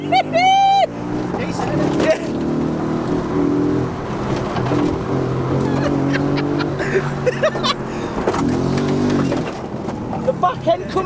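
An Audi RS4 Avant track car drives at speed, its engine droning loud and close with surges and revs, while people talk excitedly over it.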